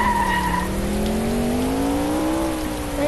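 A cartoon car skids through a U-turn with a long rising tire squeal over a rushing engine, loud and steady, with no speech.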